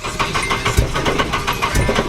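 A Nissan 350Z engine swapped into an S13 car revs on its first drive, a loud, close, continuous engine roar with rough pulsing and small surges under the throttle.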